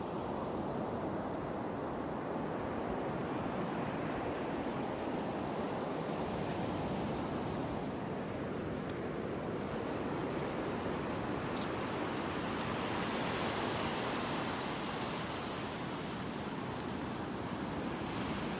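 Churned-up ocean waves break and wash continuously on a beach, a loud, dense roar of surf with gusts of wind noise rising and falling and no voices.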